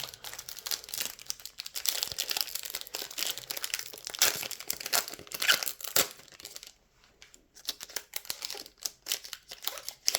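Foil packets of PKO Ekstraklasa 2023/24 football trading cards being torn open, with close, busy crinkling and crackling of wrappers in irregular bursts, fairly quiet, no talk.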